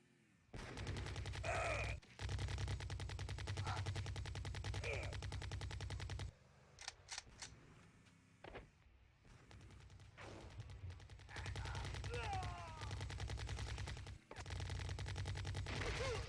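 Rapid machine gun fire from the video game Redline rattles in long sustained bursts, close and loud, broken by short pauses and a few single shots.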